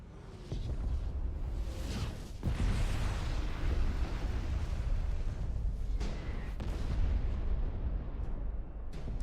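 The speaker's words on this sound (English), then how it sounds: "They're just bombing the place." Heavy bombing explosions in Final Fantasy XVI roll together into a continuous deep rumble, with sharper booms punching through every few seconds, loud and unbroken by speech.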